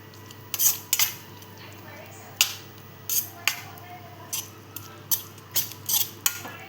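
Cooked wet amaranth leaf dish (ambadi) ladled into a small bowl, with a series of sharp clinks of a metal spoon against steel utensils, irregular and close, in a quiet kitchen.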